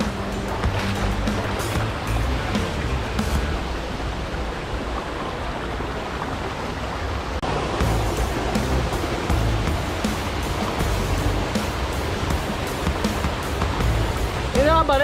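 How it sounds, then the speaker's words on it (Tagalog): Haduan Falls in Pampanga pours with a continuous broadband rush of water, a steady roaring wash that holds throughout, with faint voices mixed in. "Ito na yung pinaka-Haduan Falls."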